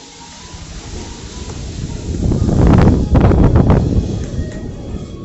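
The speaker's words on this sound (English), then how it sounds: "Getting windy out here." Wind gusts buffet the microphone outdoors, swelling to a loud rumbling rush in the middle before easing slightly.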